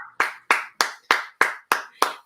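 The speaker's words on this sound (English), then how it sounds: "give him a round of applause" Seven sharp, evenly spaced hand claps ring out close and clear in a cabaret setting, each one distinct with a short decay, more like a single person's rhythmic clapping than a crowd.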